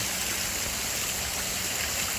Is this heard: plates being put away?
no